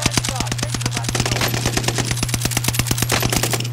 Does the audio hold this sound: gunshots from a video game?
yes